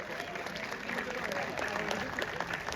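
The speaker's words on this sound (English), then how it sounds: "Can you please have a big round of applause for our panel?" An audience at a film-festival panel session applauds, a moderate, steady patter of many hands clapping throughout at middle distance, with voices faintly mixed in.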